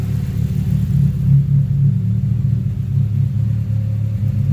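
A 2019 Chevrolet Camaro SS with its secondary catalytic converter deleted sits warming up, its engine holding a deep, steady idle rumble with slight swells, close and alone.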